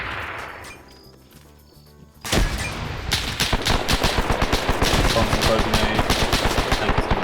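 Machine gun fire in a WW2 video game: after a quieter stretch, a loud close burst breaks into rapid sustained automatic fire that keeps rattling to the end, with faint voices underneath.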